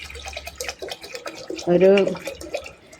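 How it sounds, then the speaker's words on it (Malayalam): Water is poured into a pressure cooker holding washed lentils, a brief splashing, gurgling burst in the middle of the sound. Someone talks around it in a quiet kitchen. "അതിലേക്ക് കുറച്ച് വെള്ളം വീത്താം."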